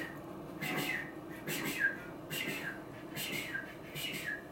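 Breathy, wheezy whistling blown through a duck call, repeated in about five short airy bursts with a rising squeak at the end of each, fairly close, over a hiss of background noise.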